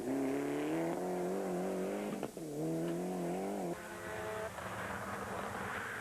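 Rally cars at the 2003 NEMC Rallysprint at Punchestown, a loud engine screaming as it accelerates through the gears, with a brief drop in pitch midway and a second car joining toward the end, no speech.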